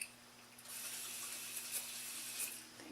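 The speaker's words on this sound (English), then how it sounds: "So I'm going to spray the beauty blender with this" Thermal spring water misted onto a makeup sponge gives a steady airy hiss lasting a couple of seconds, close and fairly faint, with no talking.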